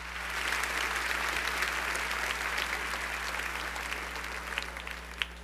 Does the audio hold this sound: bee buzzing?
no